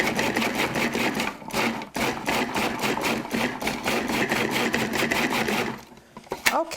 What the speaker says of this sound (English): So I'm going to put them in the food processor and let it go.